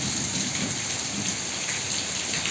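Heavy unseasonal rain falls in a constant dense roar, close and loud, with a low rumble of thunder beneath it and no voices.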